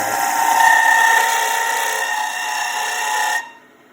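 A carbide round-tip tool cuts a slimline pen blank spinning on a wood lathe, giving a steady loud whirring scrape that holds for over three seconds, then stops abruptly.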